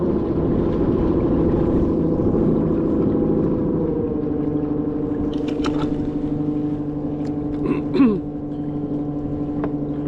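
A Haswing W40 electric trolling motor pushes a PA12 kayak across open water, giving a steady low hum with wind and water noise. The motor's pitch drops partway through as its speed is turned down.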